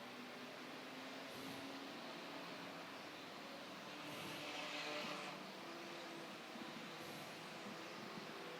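Race cars on an enduro track pass far in the distance, making faint engine drones that swell and fade over a steady background hum.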